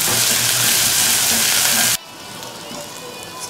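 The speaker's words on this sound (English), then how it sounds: "stir it till it gets transparent" Green chilies frying in a pan for cumin rice, stirred in hot oil: loud, steady sizzling hiss for about two seconds, then the sizzle drops to a quieter crackle.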